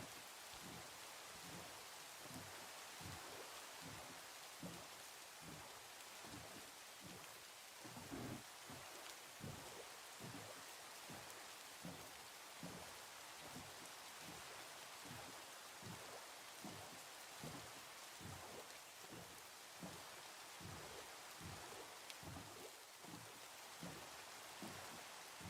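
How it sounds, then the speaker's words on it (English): Steady, realistic rain falls in a video game, a dense continuous hiss with faint rhythmic pulses underneath and no voices. "I like this realistic rain sound"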